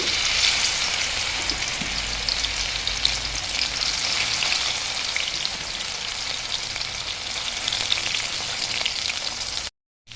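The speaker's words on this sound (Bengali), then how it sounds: "এর মধ্যে এখন আমি সয়াবিনগুলো একটু ভেজে নেব।" Soybean chunks coated in cornflour fry in hot oil in a wok, giving a continuous crackling sizzle at moderate level that holds steady before cutting off abruptly at the end.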